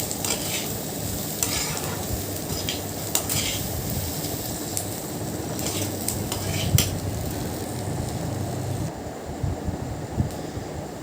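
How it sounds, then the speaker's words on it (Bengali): Rice being stirred and lightly fried in a pan for basanti pulao, soft steady sizzle with scattered clinks and scrapes of a spoon against the pot, close and without talk. "ভালো করে নাড়াচাড়া দিয়ে হালকা একটু ভেজে নিয়েছিলাম।"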